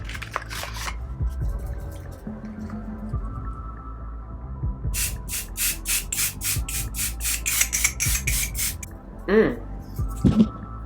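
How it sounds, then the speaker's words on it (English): A quick series of about ten short, hissing spritzes of One Size Until Dawn setting spray in rapid rhythm, with a voice speaking softly before and after. "to set everything in place, we're using the One Size Until Dawn Mattifying Waterproof Setting Spray"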